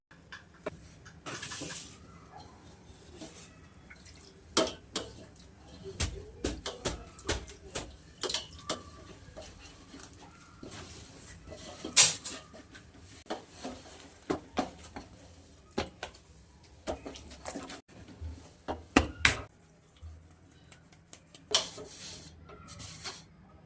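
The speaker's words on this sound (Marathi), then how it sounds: "अशी आहे ना मस्त पातळ भाकर थापून घ्यायची" Hands pat jowar bhakri flatbread dough thin on a board. Soft, irregular slaps and taps come in quick clusters with pauses between them, near and fairly quiet, with no talk.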